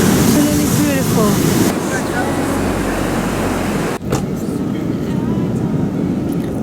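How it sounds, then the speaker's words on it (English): Ocean surf breaks on a black sand beach in Fuerteventura, a loud wash of waves mixed with gusting wind on the microphone, easing into a lighter hiss partway through. "What a beautiful ocean"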